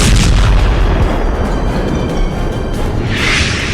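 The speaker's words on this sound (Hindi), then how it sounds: "क्रेमलिन के ऊपर ड्रोन का धमाका" A drone strike explosion over the Kremlin during the Russia-Ukraine war: a loud, heavy boom with a dense rumbling roar that fills the whole stretch and barely fades.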